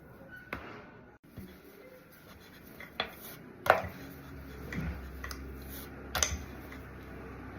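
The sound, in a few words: rolling out shankarpali dough with a rolling pin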